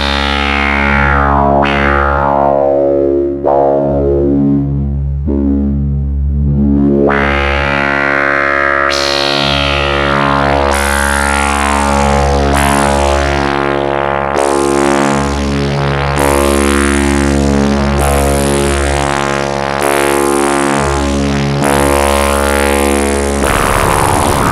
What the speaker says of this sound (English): self-generating drone patch without any external inputs, but a bit of black hole DSP on the top